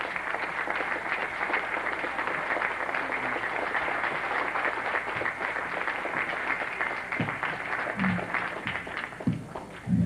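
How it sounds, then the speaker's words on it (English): Audience at a Harlem AIDS forum applauds a speaker in a steady, fairly distant round of clapping that holds evenly throughout, with a few louder claps and thumps near the end. "I want to give a big round of applause to Reverend Philip Valentine"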